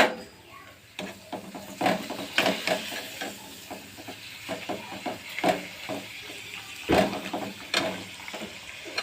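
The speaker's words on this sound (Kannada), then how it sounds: "ಹಪ್ಪಳ ಅಂತ ಕರಿತೇನೆ." Papad (happala) frying in hot oil, a steady close sizzle with repeated crackling bursts and stirring scrapes as pieces are turned.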